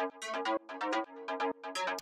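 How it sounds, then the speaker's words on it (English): Short bright FM synth stabs built in Operator from two sine waves fire in a quick syncopated pattern, each metallic and bell-like hit cutting off sharply, close and alone. "this little FM stab"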